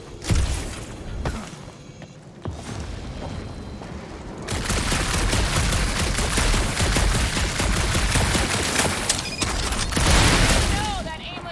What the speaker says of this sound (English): that aimless shooting isn't gonna scare the monsters away